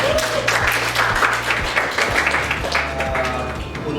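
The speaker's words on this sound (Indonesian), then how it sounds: "Oke, tepuk tangan buat kalian." Students in a classroom applaud together: a burst of clapping from a small group, dense and close, lasting a few seconds.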